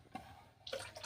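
A short splash of water poured into a cooking pot, two brief gushes, close and fairly quiet.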